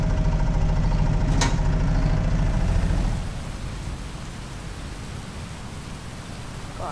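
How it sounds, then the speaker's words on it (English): Heavy rain in the physics sandbox game Teardown hisses as a loud, steady wash for a few seconds, then drops abruptly to a softer, lingering patter. "It's getting too rainy for my liking."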